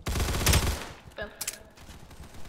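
A P90 fires a rapid burst in the Aimblox video game. The shots are loud and close, then a few sharper clicks and thuds follow as the firing stops.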